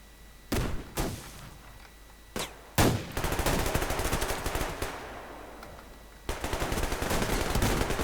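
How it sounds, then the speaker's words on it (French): Gunfire in the video game Survarium: a few single loud shots, then sustained rapid automatic bursts, close and harsh, with a brief lull before another long volley. "Il y en a un, il m'a mis une balle et l'autre après il m'en a remis une."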